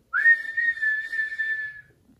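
A person whistles to imitate the vent of a 275-gallon home heating oil tank as it is filled: one clear, steady, high tone that rises slightly at the start and holds for nearly two seconds before cutting off.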